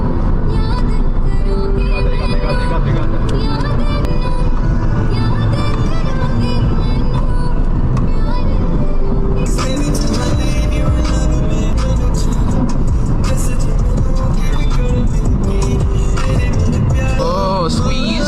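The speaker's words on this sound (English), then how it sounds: "Driving between cars." Continuous car traffic heard from a vehicle driving between lanes of cars, a steady loud engine and road roar throughout with passing vehicles and some clatter.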